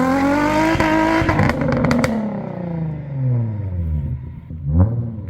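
A Nissan G35 coupe with its VQ engine revs hard and loud while spinning both rear tires in a yard, the engine note climbing and falling with wheelspin chatter and a rough clattering hop.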